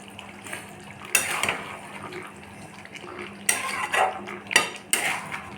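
A ladle stirs chicken and potato curry with fenugreek seeds in a metal pot, giving loud, close clanks and scrapes against the pot in irregular bursts, with wet, juicy churning between strikes.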